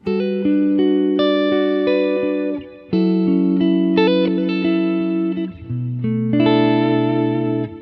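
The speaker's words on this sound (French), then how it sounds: "je suis sur ma scène 1, qui est le clean. Donc la reverb, elle est" Clean electric guitar played through an effects unit's clean scene with reverb, sustained chords ringing out in steady phrases with a short gap midway, loud and close with no talking.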